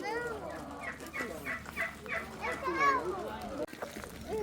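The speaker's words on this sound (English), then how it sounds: "Lots more chickens roaming around here, but we also have a few turkeys here." Several turkeys gobble and chickens cluck close by, the bird calls overlapping across the clip with a voice faintly audible.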